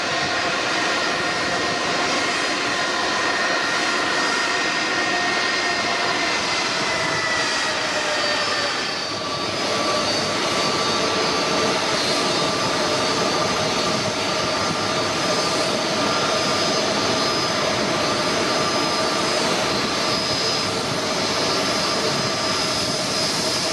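Steady, loud jet engine roar from a Delta Airbus A330-300 heard close up, a broad continuous rumble with whining tones that shift slightly partway through, with no talking.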